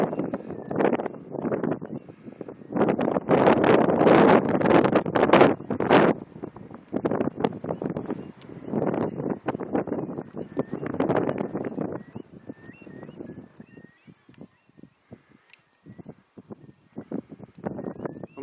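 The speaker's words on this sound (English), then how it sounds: "That wind is getting really, really strong now as well" Strong wind gusting across a reservoir walk in May, buffeting the microphone in loud rumbling bursts that ease off and return, with quieter rustling gaps toward the end.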